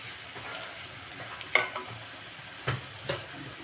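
Chopped onion and ginger-garlic paste sautéing in a kadhai for an ivy gourd (tondli) stir-fry cooked without water. A faint, steady sizzle runs throughout, with three brief scrapes of a spoon stirring against the pan.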